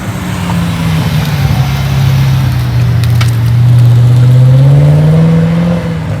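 A car with a modified, loud exhaust drives past close by, its deep engine drone rising and swelling steadily as it approaches and passes, with no talking.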